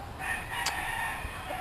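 An American rooster crows once in a farmyard, a fairly faint call against steady outdoor background noise.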